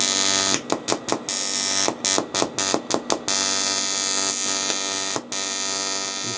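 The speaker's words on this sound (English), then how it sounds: "Just clear the arc around first a little bit to get the heat into it." AC TIG arc from an R-Tech TIG261TFT welder on an aluminium VW sump, a steady loud buzzing hum with sharp stuttering breaks in bursts as the arc starts and stops, no talk.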